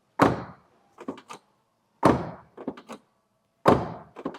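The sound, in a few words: car door shutting solidly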